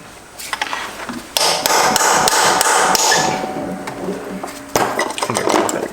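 Hammer strikes on a chisel against a destroyed Subaru STI transmission during a teardown: sharp metallic clanks and ringing impacts in a quick irregular run, close up, with scraping metal.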